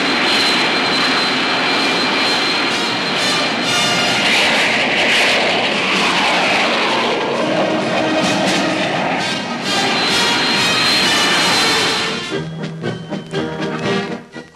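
Korean Air Force military jets, including F-5, F-86 and T-33 aircraft, sustain a loud, steady engine roar that fades out near the end, with no voices.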